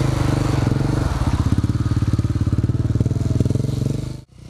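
A stunt motorcycle engine runs loud and close, a steady rapid throbbing idle or rev that holds for several seconds before cutting off abruptly.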